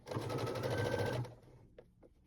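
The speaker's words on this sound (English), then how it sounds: "press your foot down, hold it nice and tight, just back stitch a little bit, back stitch a little bit right over that center seam" A sewing machine back-stitches over the center seam of a plushie paw, running in a steady close whirring burst for about a second before stopping, followed by a few faint handling taps.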